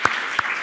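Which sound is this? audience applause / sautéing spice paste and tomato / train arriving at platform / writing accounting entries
audience applause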